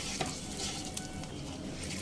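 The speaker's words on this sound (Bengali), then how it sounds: "হাফ স্পুন পাঁচ ফোড়ন হাফ স্পুন হিং দিয়ে দিলাম কয়েক সেকেন্ড ভাজা ভাজা হতে দেব" Panch phoron and half a spoon of asafoetida frying in hot oil for a few seconds, giving a steady, close hiss of sizzling with a couple of faint crackles and no voices.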